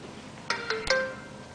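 An order notification alert sounds on a waiter's restaurant ordering app, a short run of three bright electronic chimes, the last one ringing out, near and clear over faint room noise.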